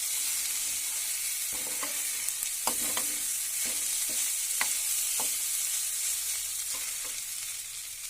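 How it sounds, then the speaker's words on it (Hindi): Daliya fries in a pan over a low flame: a steady soft sizzle with occasional scraping stir strokes, close and continuous, no voices. "लो फ्लेम पर इस तरह से इसको फ्राई करते रहेंगे"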